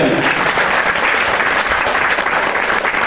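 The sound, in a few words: audience applause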